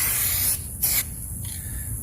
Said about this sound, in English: this is an aerosol can that I just got locally